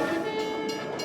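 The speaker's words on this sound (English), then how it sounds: "This rickety, rusty, old claustrophobic train that you ride in on" An old, rickety, rusty mine train rumbles through tight tunnels with a steady metallic drone and grinding wheel noise, continuous and fairly loud, with no talk over it.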